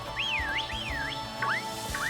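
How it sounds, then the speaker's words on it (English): A whistle in Pokémon Sword gives two rising-and-falling warbled tones, then two short upward chirps, clear and fairly loud over a faint game background hum. "Skwovet does not respond to the whistle"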